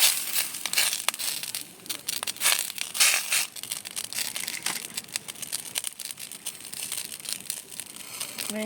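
A leaf is laid into a frying pan for fish paturi made with bele fish, a soft, close crinkling and crackling that rustles irregularly throughout at low volume.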